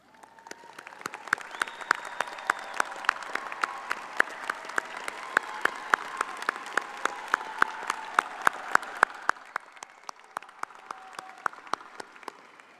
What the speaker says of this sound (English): Graduates, please stand or otherwise signify your presence, and let's give them a round of applause.